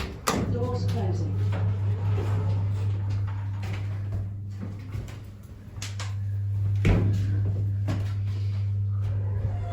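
Kone lift doors slide shut at a metro station, a soft mechanical rumble with a couple of sharp knocks, under a steady low machinery hum, heard close inside the lift car.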